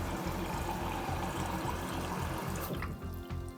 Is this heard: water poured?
yes